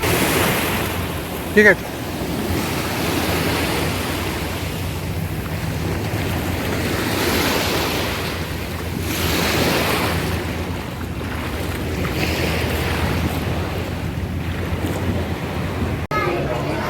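A boat crossing open sea from Monkey Island toward Phi Phi Island, with a steady broadband rush of waves, hull wash and wind buffeting the microphone throughout, plus a brief spoken phrase near the start.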